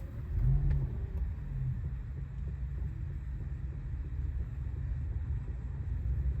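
A 2014 BMW 760Li M Sport with a 6.0 V12 starts and settles into a low, smooth, quiet idle. The rumble stays steady and close, with no talking over it.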